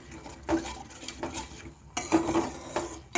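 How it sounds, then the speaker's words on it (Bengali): Paneer masala with a splash of water is stirred in a pan, a spoon scraping and clinking against metal in irregular bursts over a soft sizzle, close and unaccompanied by talk. "এবারে ভালো করে একটু নেড়ে চেড়ে কষে নেব, খুব বেশি নয়।"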